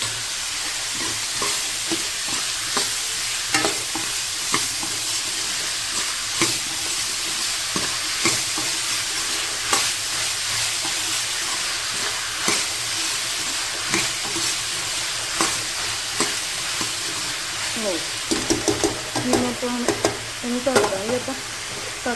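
Daliya (cracked wheat) being roasted and stirred in a pan, a steady dry sizzle broken by repeated scraping strokes of the spoon, close and fairly loud, with clinks near the end.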